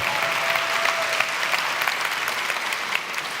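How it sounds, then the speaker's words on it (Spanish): Loud applause from a church congregation during a worship service, a thick, continuous roar of many hands clapping that holds evenly for several seconds. "Den un aplauso fuerte al Señor."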